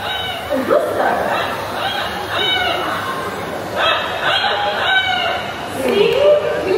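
An Amazon parrot at a Singapore bird park imitates a rooster's crow, giving several harmonic crowing calls in a row against a busy background of other birds and faint voices.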